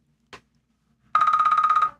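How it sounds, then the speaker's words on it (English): A telephone rings once in a steady burst of rapid electronic trills lasting under a second, loud and close, preceded by a brief soft click in an otherwise quiet room. "Oh, we got a phone call."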